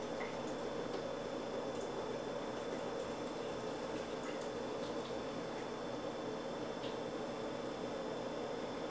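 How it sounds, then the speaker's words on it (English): Liquid egg whites pour into a pan for a high-protein chicken breast omelette, giving a steady, soft hissing wash of liquid that runs unbroken throughout, with no voices. "Now I'm going to add in some egg whites."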